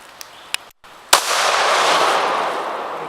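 During an animal hunt, a single sharp gunshot cracks out loud and close after a few faint clicks, then trails into a sustained broad rumble of echo and noise.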